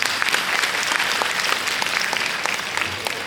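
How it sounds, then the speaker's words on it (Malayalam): An audience claps steadily for students in a school gathering, a dense, sustained round of applause filling the space without talk over it. "അപ്പോൾ അവർക്ക് എല്ലാവർക്കും വേണ്ടി ഒരു കയ്യടി നമുക്ക് ആദ്യം കൊടുക്കാം."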